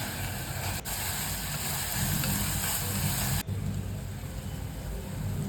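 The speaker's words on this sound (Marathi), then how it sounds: "आपल्याला हे चांगलं आता हलवून घ्यायचं आहे तेल सुटेपर्यंत." Tomato and bay leaf stir-fried in hot oil in a pan, giving a steady, loud, close sizzle throughout, with a couple of brief knocks from the utensil.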